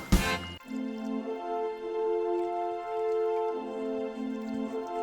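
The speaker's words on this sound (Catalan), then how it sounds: "També hi posem l'aigua." Water pours steadily into a bowl of cake batter with a continuous trickling, filling sound, the pitch of the pour shifting slightly as the level rises; no voices.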